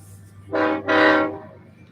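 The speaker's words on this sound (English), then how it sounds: "Excuse the train." A passing train sounds two loud horn blasts nearby, the first short and the second longer, rich in harmonics, over a low steady rail rumble in a quiet indoor room.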